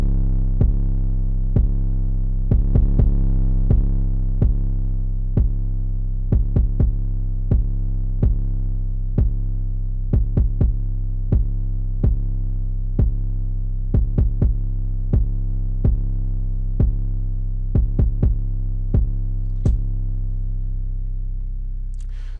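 A distorted 808 bass in FL Studio plays a rhythmic pattern of deep, buzzing bass notes with hard attacks, repeating steadily and loudly before fading at the end.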